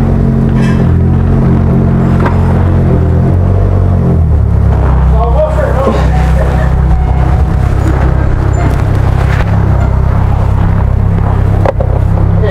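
A lowered Chevrolet Captiva on fixed suspension drives over speed bumps, with a loud steady engine and road rumble throughout and a few brief thumps, while people talk inside the car.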